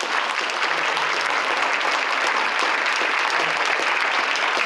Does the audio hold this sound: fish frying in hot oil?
no